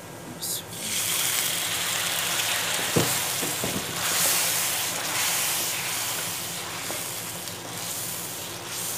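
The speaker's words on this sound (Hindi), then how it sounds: "और इसको हल्की आग पे पका लेना है जी 3 से 4 मिनट।" Loud, continuous sizzling and hissing from a hot tawa where liver is being cooked with chopped green chillies, crushed red chilli and a splash of water, Karachi street style, with faint stirring scrapes and occasional clicks.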